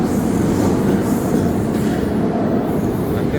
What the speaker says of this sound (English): I think the metro goes under.